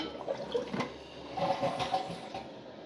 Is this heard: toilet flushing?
yes